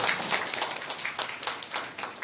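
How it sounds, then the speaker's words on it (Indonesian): An audience at a national seminar claps in applause for a police officer, a steady patter of many hands, somewhat distant and moderate in level, without any talking. "Tepuk tangan untuk Bapak polisi kita."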